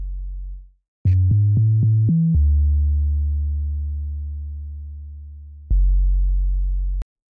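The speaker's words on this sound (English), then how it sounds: "for the bass, I'm using sub-boom bass" A soloed sub-boom bass synth preset in FL Studio plays a deep, smooth sine-like tone, a short rising run of notes followed by one long sustained low note that slowly fades, then another held note.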